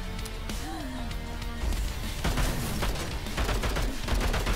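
Gunfire in the dystopian roguelite first-person shooter Bunker Punks on PC: a dense, rapid fusillade of shots over a steady game-music bed, growing louder and heavier in the second half.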